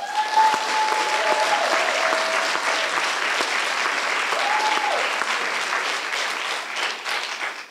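Steady audience applause at a talk on crime and punishment in Black America, dense clapping from a large crowd sustained at even loudness for several seconds, with faint tonal whistles or voices threaded through.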